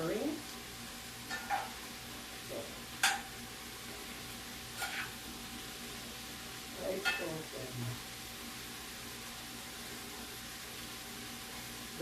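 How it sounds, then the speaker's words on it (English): Beef and red and green peppers in a stir fry crackle softly in a pan between medium and high heat, broken by a few sharp scrapes of a spatula as the mix is stirred. "We're going to do some stirring."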